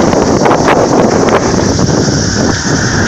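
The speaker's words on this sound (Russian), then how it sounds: "Ох, ветер подул, стало тяжело ехать." Strong sea wind buffeting the microphone while cycling along the Greek coast between Kiato and Nafplio, a loud continuous roaring rumble with gusty surges and no speech.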